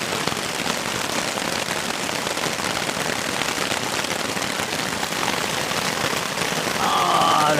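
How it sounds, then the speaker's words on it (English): Heavy rain pours down at a lakeside campsite, a dense continuous hiss of drops pattering on surfaces, steady and close throughout. "That's raining pretty good right now."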